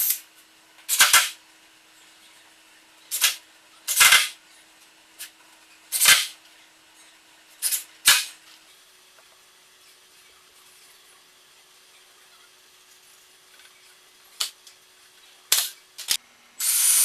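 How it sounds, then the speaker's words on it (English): Brad nailer firing 18 gauge brad nails to tack a wooden stair handrail on a loft bed: about a dozen sharp, isolated pops, some in quick pairs, spread unevenly over quiet pauses. "I'm just going to tack it in place with 18 gauge brad nails and then apply some screws also."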